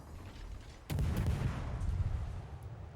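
Naval gunfire from an enemy battleship in World of Warships, one sudden loud boom followed by a rolling, rumbling roar that lingers and slowly fades, with no speech.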